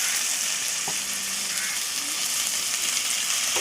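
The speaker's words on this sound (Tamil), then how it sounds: "ஒரு 2 பெரிய தக்காளி சின்னதாக நறுக்கி வெங்காயத்தோடு ஆட் பண்ணி அதையும் நல்லா வதக்குங்க." Chopped onions and two large diced tomatoes sauté in a pan for a dry fish curry, giving a steady, close hiss and crackle with faint stirring scrapes throughout.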